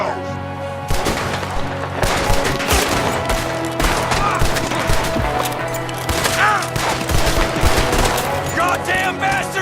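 Rapid gunfire crackles in a Western shootout in the video game Red Dead Redemption, with dense overlapping rifle and pistol shots, close and loud, and shouting voices mixed in.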